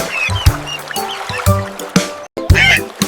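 Several quacking duck calls mixed with splashy, watery noises and a few bright chirps, lively and close, with short pauses between bursts.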